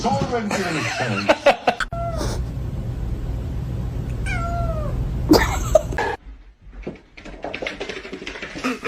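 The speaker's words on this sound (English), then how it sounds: "Look at this little kitten." A small kitten gives several high, drawn-out meows in a home, close and clear, with laughter and chatter from people mixed around the calls.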